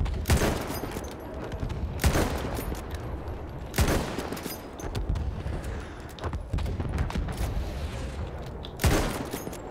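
Gunfire in Battlefield 1's Gallipoli landing scenario, with heavy rifle shots cracking every couple of seconds over a dense, continuous battle din of distant shooting and explosions.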